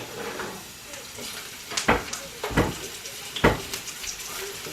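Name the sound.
fennel sizzling as it browns in a hot pan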